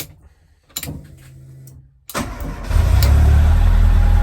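A Ford Escort RS Turbo engine cranks briefly, catches and settles into a loud, steady idle close by, with no talking.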